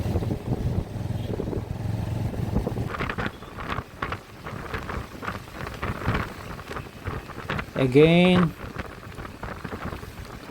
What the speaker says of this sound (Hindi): बारिश यहाँ रुकता है, यहाँ फिर से शुरू हो जाता है